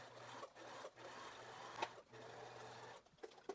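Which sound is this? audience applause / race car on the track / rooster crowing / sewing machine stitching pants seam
sewing machine stitching pants seam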